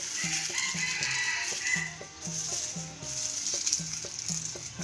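Fish scales fry in hot oil with a steady, soft sizzle, partly overlaid by a repeating pattern of clucking, tonal calls.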